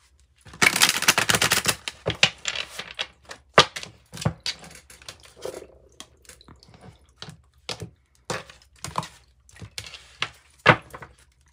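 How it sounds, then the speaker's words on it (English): Rapid papery riffling as tarot cards are shuffled, followed by scattered soft taps and flicks of cards being handled, close and fairly quiet. "Well, one more shuffle and then we will cut."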